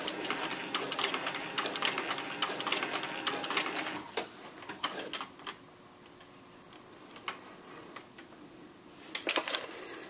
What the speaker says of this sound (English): I flip the leather over and sew back to the next indentation at the top.